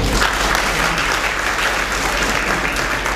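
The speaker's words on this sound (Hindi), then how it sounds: "बार बार ताली नहीं बजाओ" An indoor audience at a spiritual gathering in Delhi claps steadily, dense sustained applause filling the whole stretch with no speech over it.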